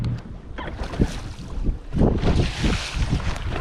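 A Triton bass boat idles on a windy stretch of Great Lakes water near Sturgeon Bay, its low engine rumble mixed with steady wind buffeting and water wash, loud and continuous throughout with no voices.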